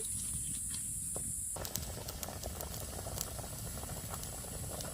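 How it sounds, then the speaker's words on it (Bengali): Hilsa fish curry with raw mango boils in a pot, a steady bubbling that rises suddenly about a third of the way in and then carries on evenly to the end, with no talk. "এখন বেশ কিছুক্ষণ ফুটিয়ে নেব।"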